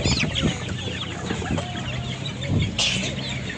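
Chickens cluck and a rooster calls amid the steady din of a poultry and livestock market in Sokuluk, Kyrgyzstan, with nearby voices chattering underneath.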